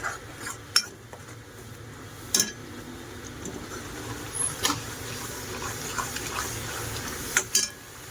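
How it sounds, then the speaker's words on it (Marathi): A spatula stirs homemade Agri Koli masala roasting in oil in a metal pan, making sparse, sharp scraping clinks over a quiet background hiss. "आता त्याला चांगलं तेल सुटेपर्यंत भाजून घेऊया"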